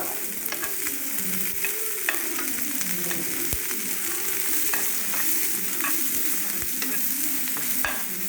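Creeper leaves frying in ghee in a pan for chutney: a steady, close sizzle broken by irregular scraping and clicking stir strokes, with no one talking.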